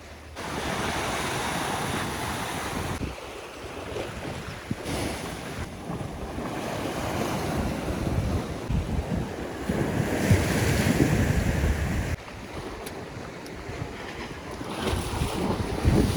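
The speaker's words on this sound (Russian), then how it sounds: "Волны большие, здесь все в воде." Big sea waves surge and wash against the rocks at the Blue Grotto in Malta, a continuous loud roar with heavy wind buffeting the microphone and no voices.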